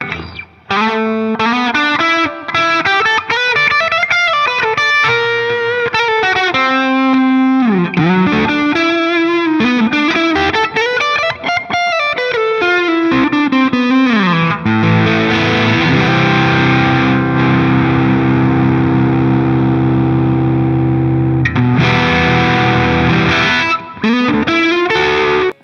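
An electric guitar played through a compressor in the AmpliTube 5 amp simulator gives distorted, bending lead phrases and then sustained chords, loud and continuous with no voices.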